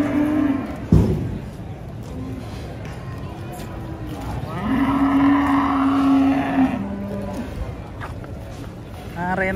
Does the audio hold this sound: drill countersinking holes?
no